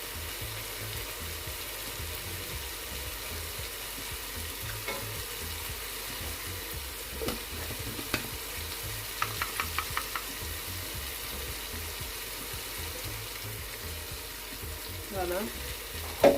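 Beans and tomato sauce sizzle and fry steadily in a pan after water is added, a constant crackling hiss with a few clinks and stirring scrapes throughout, no talking.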